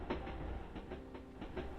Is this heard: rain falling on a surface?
no